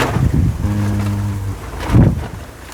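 Gusty wind buffets the microphone outdoors in rural Thailand, a steady low rumble that swells around the middle and again near the end, with a brief tonal hum early on and no talk.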